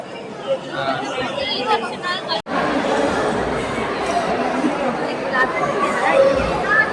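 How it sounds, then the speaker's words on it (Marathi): Steady crowd chatter fills a crowded waiting line on a family trip to Nashik, many overlapping voices forming a continuous babble with a brief dropout partway through. "गर्दी अजून आहे"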